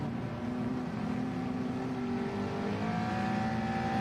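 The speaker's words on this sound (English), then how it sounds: "Revs starting to rise, drivers all prepped and ready to go." Gran Turismo-style Gr3 race cars idle on the starting grid at Catalunya in a racing game, engines droning together as revs slowly climb in rising pitch, a steady blended roar with no voices.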